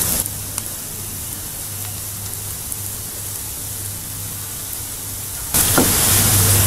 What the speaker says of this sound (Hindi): तो पकोड़ों को हम पलट पलट कर फ्राई कर लेंगे